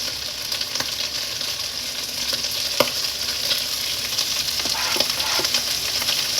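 Bacon and melting bacon fat sizzling in a pan, a loud continuous close-up hiss with scattered crackles and a few clicks of a utensil, no voices.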